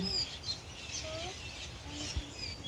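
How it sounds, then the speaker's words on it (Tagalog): Birds in a coconut tree chirp and twitter faintly in a noisy outdoor setting, with scattered short calls over a constant rumble. "Ang daming ibon dyan."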